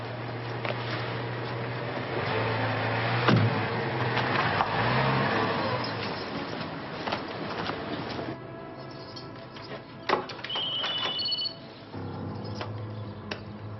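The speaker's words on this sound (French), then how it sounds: "Je vais mettre la voiture au garage." A car engine idles and revs as it is driven into a garage, steady at first, then quieter after a few seconds, with a sharp knock partway through and faint birdsong at the end.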